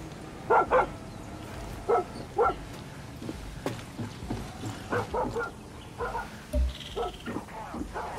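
Far Cry 6 dog barking repeatedly throughout, bursts of single and doubled barks at an uneven pace, fairly close over a low rumbling game backdrop.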